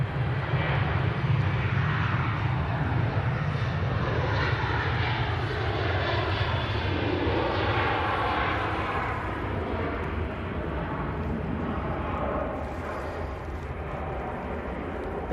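An airliner, such as a Boeing 737, takes off at Manchester Airport, its jet engines a loud, sustained roar that holds steady and eases slightly toward the end.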